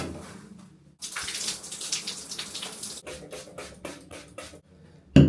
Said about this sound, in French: Allez, c'est l'heure de la douche.